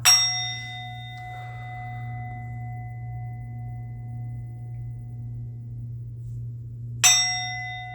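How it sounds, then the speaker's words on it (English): A metal bell is struck twice, a bright ringing clang at the start that hums and decays slowly for several seconds, then a second strike about seven seconds later, clear and close in a quiet room. "I'm going to ring the bell."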